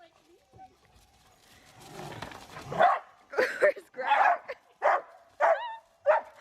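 A dog barks in a string of short, sharp bursts and growls amid excited people's voices at a mountain rental, the barks growing louder and closer together toward the end.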